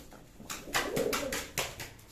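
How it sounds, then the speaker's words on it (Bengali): Pigeons cooing in soft, rounded bursts close by at a pigeon sale in Baruipur, repeating several times over a quiet background. "পায়রা।"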